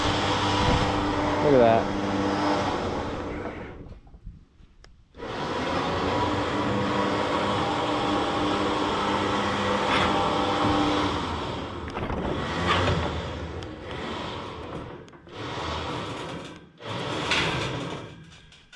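A winch hauls a 1977 Firebird onto a car hauler, a steady mechanical grinding whine running in long stretches that stop and restart, with a short break and brief clunks, while someone speaks briefly.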